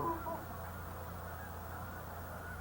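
Geese give a couple of short, faint honks right at the start, then only a low, steady background hum remains.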